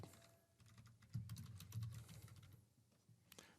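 Rapid typing on a computer keyboard while entering a workflow name: fast, irregular key clicks in a continuous run, close but faint, with no talking.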